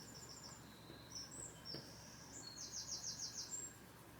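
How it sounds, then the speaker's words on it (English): Birds singing outdoors, heard as faint, distant chirps and a short repeated trill over quiet background hiss. "Can you hear the birds?"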